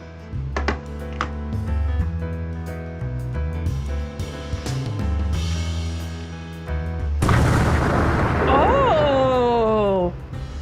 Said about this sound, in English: The one with the tube strikes a tree. Small explosion bursts forth.